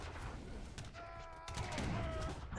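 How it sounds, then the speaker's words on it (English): Cannon fire crackles in a battle in the strategy game Age of Empires III, a faint burst of rapid pops and booms mixed with game noise, with a few tonal effects rising briefly. "Ah, man, I love those cannons."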